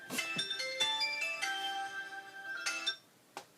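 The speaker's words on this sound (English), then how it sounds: "there goes my phone." Phone ringtone plays close by, a quick melodic chime pattern of bright tones repeating in short bursts before cutting off.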